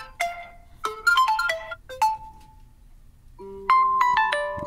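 Melodic ringtone chimes play through the dual speakers of an Oppo Find N2 Flip smartphone, bright tonal notes in two short phrases separated by a brief pause, close and clear with no talking.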